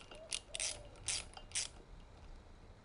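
A ratchet clicks in several short bursts while a brake line fitting is tightened on a Triumph Sprint ST 955i motorcycle during restoration, close and fairly quiet against a low background hiss.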